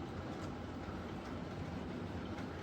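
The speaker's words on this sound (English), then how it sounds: "I'm also starting another train rumbling round, so we're going to let my Q6 out for a little play" A Bachmann model railway freight train hauled by an LNER Q6 locomotive rumbles steadily round the layout, a continuous low clattering roll with no talk over it.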